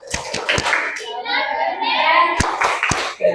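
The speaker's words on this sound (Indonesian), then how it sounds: "Beri dia tepuk keren dulu," Children in a classroom guidance session perform a rhythmic group clap, sharp hand claps in a short patterned burst with young voices chanting and talking in between, close and fairly loud.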